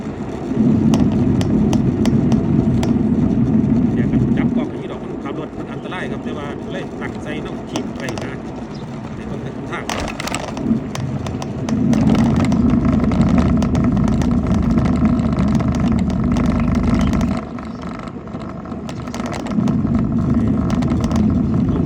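Steady tyre and road roar from a car driving on roads in Taiwan, loud and close, with a low rumbling band that drops away and returns while a voice talks over it.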